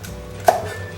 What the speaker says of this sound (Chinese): 芹菜适量，切断。